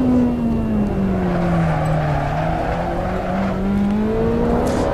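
A Ferrari 458 in Assetto Corsa lapping Imola, its engine a loud, steady high-revving wail that sags and climbs gently in pitch through corners, with no voice over it.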